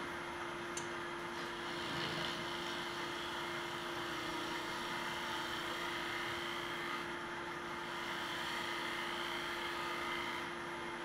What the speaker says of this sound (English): Right now I am scraping a little bit for shape